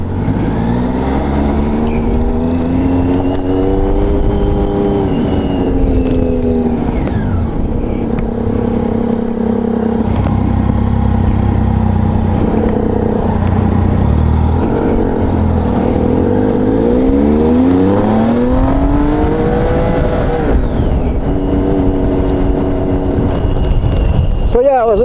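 A Peterbilt truck engine as the clutch is let out: a loud, close diesel drone whose pitch sweeps up and down, with wind buffeting and someone talking over it.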